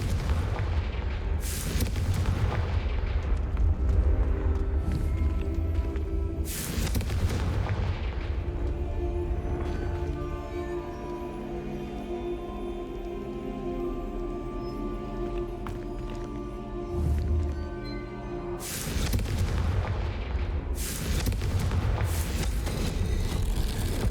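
Repeated booming explosions from blasting spells in Hogwarts Legacy, loud and heavy bursts in clusters near the start and end with a rumbling lull between, game sounds without talk.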